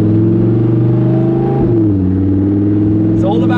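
A Lamborghini Huracan EVO Spyder's engine and exhaust rev steadily in sport mode, a loud, continuous throaty drone that shifts pitch midway, with a person talking over it.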